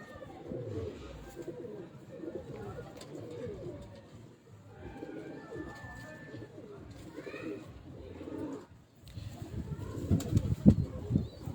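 Pigeons coo in soft, repeated phrases, with some wing flapping, while someone talks over them throughout.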